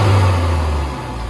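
A tuned four-cylinder Honda Civic Type R FK8 engine, ECU tuned with cat delete, revs loudly with a deep growl, then the pitch drops as the revs fall away, all close and without talk.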